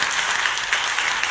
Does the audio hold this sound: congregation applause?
yes